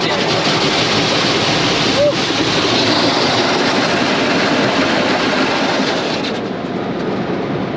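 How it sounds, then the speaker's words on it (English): Steady broadband spray of water rinsing down the outside of an RV, a constant loud hiss that eases slightly near the end; speech is faintly present beneath it. "now we're getting rinsed off"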